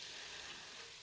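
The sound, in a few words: sautéing spices for beef curry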